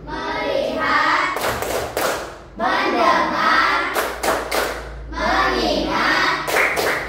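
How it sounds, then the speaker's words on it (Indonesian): Children in a class play the rhythmic clapping game tepuk konsentrasi, with sharp groups of claps and thuds set between chanted words, repeated in three even rounds. "kita tepuk konsentrasi dulu, oke?"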